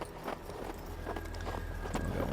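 Horse hooves in the Western video game Hard West 2, a steady run of soft clip-clop steps over a low constant rumble, moderately loud with no talking.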